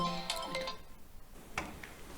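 A mobile phone ringtone plays a short melodic sequence of bright tones, left ringing inside a car, moderately loud and close, with a second burst of tones after a brief pause.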